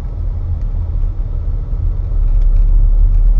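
A car engine with a failing voltage regulator runs as a steady low, loud rumble, its drone rising in level partway through and holding there, with no voices over it.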